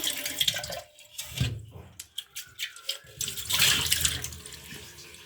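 Hands rinse something under a running tap into a sink, water splashing and trickling steadily with brief pauses and drips, a fuller gush near the end.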